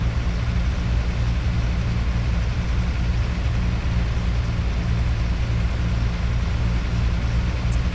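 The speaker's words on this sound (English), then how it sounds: "Man, that is quite loud, this truck" A Scania 143M truck engine in Euro Truck Simulator 2 drones steadily, a loud, low, constant rumble heard from inside the cab with no change in pitch throughout.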